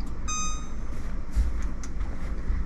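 An oven timer sounds a short burst of high electronic beeps near the start while muffins bake, then fades into quiet kitchen background noise.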